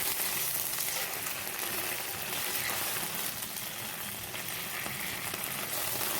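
Ginger garlic paste sautéing in coconut oil for a chickpea curry, giving a steady, dense sizzle that holds evenly throughout without pause.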